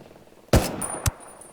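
Two sharp sniper rifle shots ring out in Ghost Recon Wildlands, a loud crack followed about half a second later by a second, with a faint high whine trailing between and after them.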